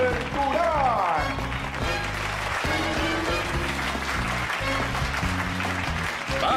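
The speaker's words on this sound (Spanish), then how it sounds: "recibamos con un fuerte aplauso a su chef de la bahía, a Dexter Durán." An audience at a cooking show in San Francisco applauds to welcome a chef, a steady, loud clapping wash mixed with music underneath throughout.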